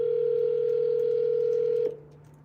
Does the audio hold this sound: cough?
no